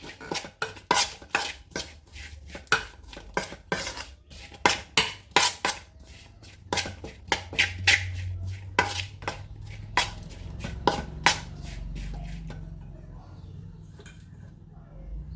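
A spoon clanking against a pot while mango curry ingredients with turmeric powder and coconut oil are mixed, a series of sharp metallic knocks in an irregular rhythm, close by, fading out at the end.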